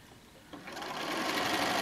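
A sewing machine stitches down a zippered pillow cover with piping, running steadily and growing a little louder and denser after a brief pause in the first half-second.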